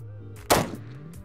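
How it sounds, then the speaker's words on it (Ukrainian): A single sharp rifle shot, fired from a tripod rest by a marksman, cracks loudly and close, followed by a short fading echo. "Гарний постріл."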